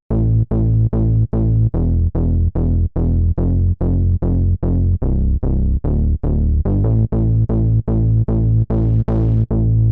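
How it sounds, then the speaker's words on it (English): A gritty synthesizer bass preset for modern trance plays a steady run of evenly spaced, punchy sustained notes, loud and alone. "Bass back is a little bit more sustained and has this nice gritty noise to it."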